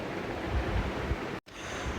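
Foxtail millet and mung dal rinsed under running water, a steady broadband rush with low gurgling, broken by a brief silent gap before the flow resumes.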